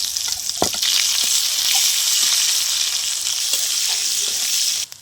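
Dried red chillies, cumin seeds and chopped onion hitting hot oil in a pan, with a loud, steady close sizzle, a few sharp crackles and stirring taps, ending abruptly; no one speaks.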